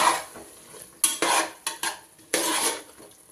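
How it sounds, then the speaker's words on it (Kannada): A spoon scrapes and clinks against a bowl while yogurt is mixed with chili powder and turmeric, in short bursts of stirring with brief pauses between, close and clear with no talking. "ಮೊಸರು ಒಂದು ಸ್ವಲ್ಪ ಮೆಣಸಿನ ಹುಡಿ ಒಂದು ಸ್ವಲ್ಪ ಅರಶಿನ ಇಷ್ಟು ಹಾಕಿ ಚಂದ ಮಿಕ್ಸ್ ಮಾಡಿಕೊಳ್ಳಿ"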